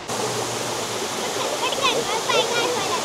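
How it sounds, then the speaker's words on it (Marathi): The Nixenfall waterfall in Austria's Salzkammergut roars steadily, a dense wash of rushing water that never lets up, with a few faint chirps rising over it. "खूप छान आवाज येतोय पाण्याचा"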